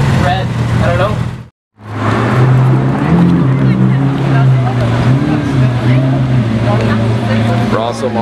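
A Lamborghini Aventador passes close by with a steady, loud engine drone that holds throughout, interrupted by a brief dropout near the start, while people chat over it.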